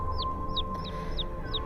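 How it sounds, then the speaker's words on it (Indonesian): Distant chicks peep in five thin, high, downward-sliding calls at a steady pace over a low background hum, faint and far off. "Karena suara anak ayam itu terdengar cukup jauh."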